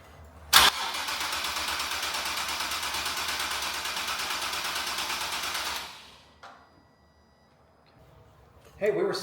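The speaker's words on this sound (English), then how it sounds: "We're priming the engine." A Nissan 370Z with its fuel pump disconnected cranks steadily for about six seconds without firing, the starter's fast rhythmic churn loud and close, followed by a short clunk, near-silence, and a brief voice at the end.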